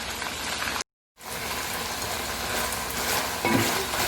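Soy sauce is added to pork menudo frying in a pan, bringing a dense, loud, close sizzle that cuts out briefly before resuming steadily without talk.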